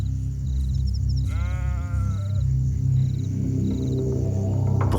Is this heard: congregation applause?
no